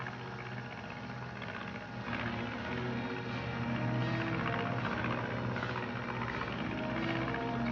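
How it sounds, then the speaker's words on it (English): A propeller plane drones overhead, a steady buzzing engine roar that swells slightly louder partway through and holds, no voices over it. "Watch the plane."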